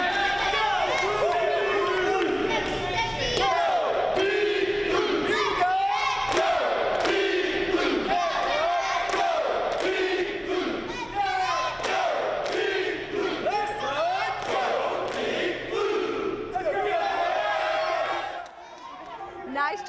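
A university cheer team chants and shouts in loud rhythmic bursts over crowd noise and thumping, with repeated group yells in a steady pattern for nearly twenty seconds before fading at the end.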